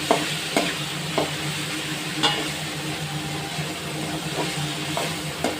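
Mango pickle sautés in a pan with salt and chilli powder, a continuous sizzle and hiss broken by intermittent scraping stirs and clinks, with no voices.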